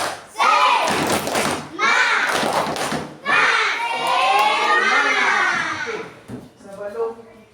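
A classroom of children performs the 'tepuk semangat' spirit clap, loud rhythmic bursts of clapping and shouting in several phrases with brief pauses between, close and energetic.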